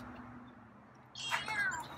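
A feral cat named Scruffy gives a single short, close meow that rises and then falls, over faint outdoor background noise.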